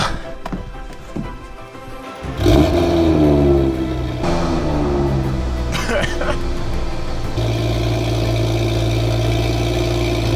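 A BMW 335i engine with a resonator-delete exhaust fires up and settles into a deep, throaty idle with a loud, burbling exhaust note, holding steady with slight shifts in pitch.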